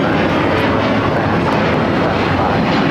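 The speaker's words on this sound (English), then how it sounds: "United Airlines 1260 taking off to Denver on the 757-300." A United Airlines Boeing 757-300 taking off from LAX, its engines producing a loud, steady broadband roar that holds constant throughout with no voices.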